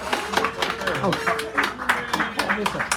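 Audience clapping at a cafe poetry reading, a steady patter of hands under a voice talking throughout, moderately close in a small room.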